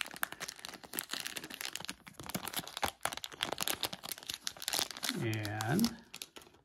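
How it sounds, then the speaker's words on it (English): A baseball card pack wrapper is torn and crinkled open close by, giving a run of dense rustling and crackling, while a person talks throughout. "let's open up the first pack"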